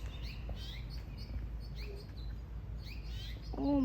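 A mother bird chirps near her babies outdoors, repeating short high tweets, faint and scattered over low ambient rumble, ending in a longer sliding call.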